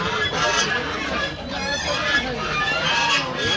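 Ducks at a crowded rural poultry market in winter honk and quack in a dense, loud, continuous din. Faint crowd chatter mixes in.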